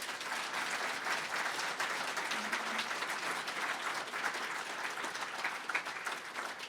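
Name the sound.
audience applause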